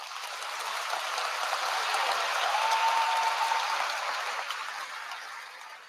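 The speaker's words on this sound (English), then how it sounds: "Would you celebrate them with a round of applause?" A large commencement audience at Alabama A&M University's 2023 graduate ceremony applauds in a broad, distant wash of clapping that swells gradually, peaks, then eases off slightly.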